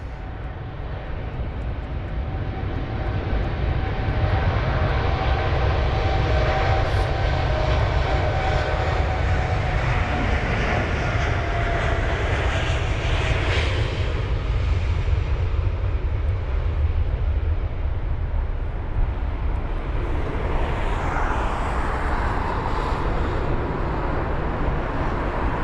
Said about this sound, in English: It's the WestJet 7879 Dreamliner off to Calgary